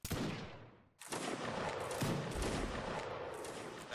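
A musket volley fires in a line-infantry video game, with a loud crackling fusillade that fades, then a second ragged volley of many shots that keeps rolling on.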